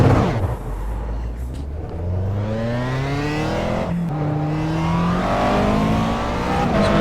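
A race car engine screams through gears during a hot lap in iRacing, rising in pitch with each upshift and dropping at a braking point, loud and close throughout.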